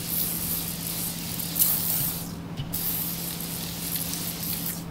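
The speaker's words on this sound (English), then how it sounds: "So I'm gonna just go ahead and spray my face." An aerosol face mist hisses in one continuous close spray that lasts several seconds, with a short break partway through and a steady low hum underneath.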